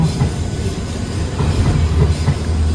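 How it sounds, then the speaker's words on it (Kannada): A train passes through London with a loud, continuous low rumble and faint rhythmic wheel clatter nearby, no voices over it. "ಟ್ರೈನ್ ಹೋಗ್ತಾಯಿದೆ."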